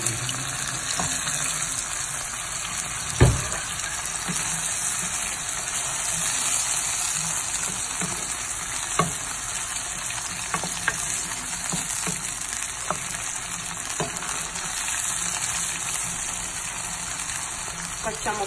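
Pumpkin cooks in a pan with added water, giving a steady close sizzle and bubbling hiss throughout, with occasional clacks of a utensil stirring against the pan.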